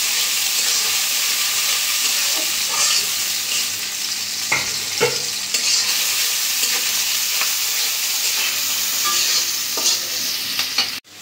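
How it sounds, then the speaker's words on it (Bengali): Chopped onions and green chillies fry in hot oil with a steady bright sizzle and hiss, while a spoon stirs and scrapes the pan with occasional soft knocks, close and without talk. "পেঁয়াজ মরিচটা একটু ভেজে নেব।"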